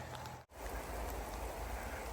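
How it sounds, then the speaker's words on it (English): Steady rain shower falling on the Colorado Trail, a dense continuous hiss of drops on the surface with a brief dropout near the start, close and fairly loud with no talking. "Pretty good little shower."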